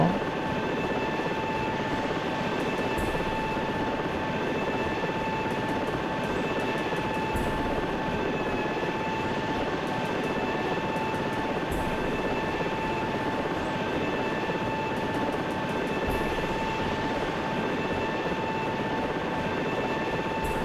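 A video game helicopter engine runs steadily and loudly, with a constant whining rotor and turbine drone holding unchanged throughout, and no other sounds.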